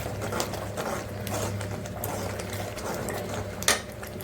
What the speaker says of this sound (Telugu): చిటికెడు పసుపు వేసి కలుపుకోవాలి.